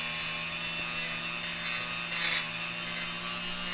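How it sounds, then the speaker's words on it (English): A Dremel rotary tool grinds out a tight-fitting 3D printed part for a Traxxas Rustler RC car, a steady high-pitched whine with abrasive rasping that swells briefly in the middle, close and continuous with no talking. "we're gonna have to Dremel this out a little bit"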